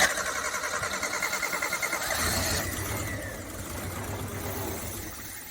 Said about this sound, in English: Go ahead and just try to start it.